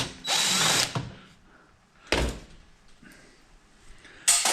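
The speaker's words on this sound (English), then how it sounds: "Now we'll get the screws for the cooling fan inside." A power drill drives out the screws holding a cooling fan inside a piece of shop equipment, with three short loud bursts of whirring separated by quiet pauses, the last cut off at the end.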